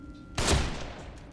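A single loud gunshot from The Evil Within video game, a sharp blast followed by a decaying rumble and a brief tail.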